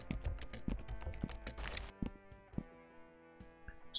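Rapid clattering keystrokes on a keyboard in the video game Sally Face 2, dense for about two seconds and then thinning to scattered taps over a lingering musical tone.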